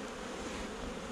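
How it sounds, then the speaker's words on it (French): Honey bees fly around a beehive entrance, a dense, steady buzzing swarm heard up close and loud with no pauses. "il y a quelques abeilles, on va faire décoller parce qu'elles veulent toujours revenir à l'entrée"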